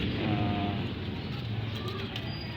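Pigeons coo steadily on a rooftop in the morning, soft repeated low calls set against a dense, noisy outdoor background.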